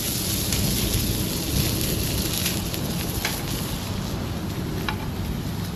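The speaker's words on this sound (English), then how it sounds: "It is searing up pretty well." Dry prime rib steaks sear on a charcoal grill at a park, giving a dense, steady sizzle and crackle close by that holds without pause.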